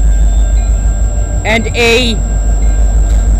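Freight train cars roll past on the Dundas Sub rail line in London, Ontario, making a continuous heavy rumble. A person speaks briefly midway over the noise.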